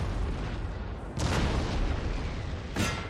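Cannon fire in a Napoleonic-era battle from the Napoleon: Total War game, with two sharp booms about a second and a half apart over a steady rumbling din of battle.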